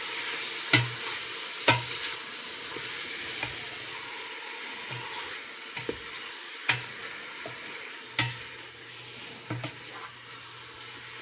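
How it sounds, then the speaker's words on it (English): Meat browns in a pan for pepper steak, a steady low sizzle broken by sharp spoon clanks and stirring scrapes every second or two, close and fairly quiet, no talk. "So right now we're browning the meat."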